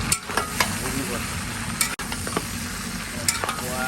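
Mutton and spices fry hard in a pan over high heat, a steady loud sizzle broken by sharp crackles and stirring scrapes, with no talking.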